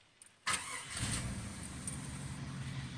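A 1990 Jeep Grand Wagoneer engine starting from nearly cold: a brief crank catches at once and settles into a steady, close idle.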